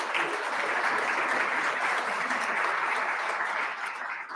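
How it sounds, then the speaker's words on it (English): An audience at a democracy forum gives a sustained round of applause, dense and even throughout before easing off in the final moments. "Let's have one more round of applause."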